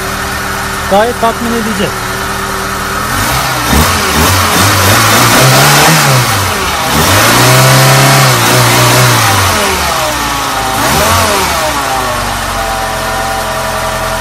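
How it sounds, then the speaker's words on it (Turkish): A Tofaş car engine fitted with new iridium spark plugs runs and is revved repeatedly, with rising and falling engine swells over a steady idle. Someone speaks briefly over it. "Arkadaşlar aracın hem çalışması hem de eminim gaz yemesi şu an"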